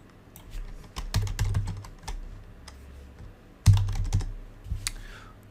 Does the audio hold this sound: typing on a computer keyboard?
yes